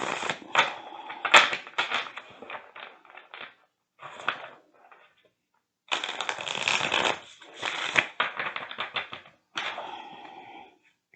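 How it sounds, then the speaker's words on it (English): Bursts of stiff new tarot cards being shuffled, rapid riffling clicks in several separate runs broken by short pauses, close and fairly loud. "So just shuffle a little bit more because these really feel"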